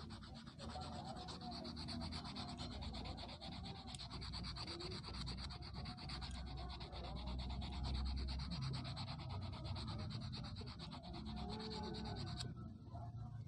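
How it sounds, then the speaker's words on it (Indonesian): Steady, rapid back-and-forth rasping of sandpaper on a small metal fish hook, close up and continuous, with no voices. "Kita langsung amplas bagian mata pancinya atau ruruhitnya seperti ini aja ya."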